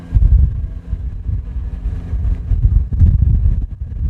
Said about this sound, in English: Where I'm standing is a bit of a wind tunnel